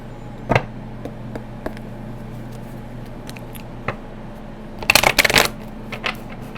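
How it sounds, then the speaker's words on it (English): Oracle cards are handled and shuffled near the listener against a low background hum, with a few scattered taps and a short burst of quick riffling, and no talking. "we're going to get some oracle cards out, and then we'll get into the tarot."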